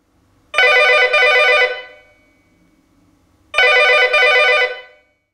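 A telephone bell rings in two loud, trilling double bursts separated by a pause, close and clear against near silence.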